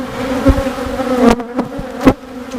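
Honeybees buzz steadily around an open hive frame carrying queen cells and capped honey, a close, continuous drone with a few louder passes as bees fly near.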